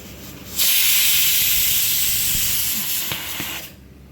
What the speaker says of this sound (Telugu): పాలు పాలు కోవా మరుగుతున్నాయి